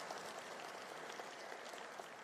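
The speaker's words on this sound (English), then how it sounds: "Yes, that deserves some applause." Audience at a college convocation applauding, a faint, even wash of clapping from a distant crowd over a couple of seconds.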